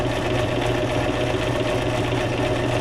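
Sewing machine running steadily through a zigzag stitch along the edge of fabric or paper for junk journal ephemera, a close, continuous motor hum and needle chatter with no pauses.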